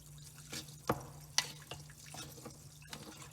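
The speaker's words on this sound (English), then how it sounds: "Just going to go ahead and start adding water to this one." Water being poured and stirred into an aluminum oxide chemistry reaction, with faint splashing, a few small clinks and drips over a low steady hum, quiet and close.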